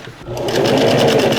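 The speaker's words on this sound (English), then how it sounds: "Now I top stitch along that seam I just serged on the shoulders" Sewing machine running steadily as it top stitches along a serged shoulder seam of a polo-style shirt, a loud close whirring that starts up quickly and holds an even rapid rhythm.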